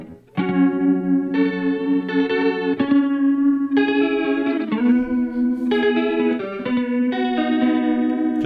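Electric guitar through an OBNE Visitor modulation pedal, tremolo sitting under chorus, plays a slow sequence of sustained chords with a wavering, shimmering pulse and light reverb, close and steady.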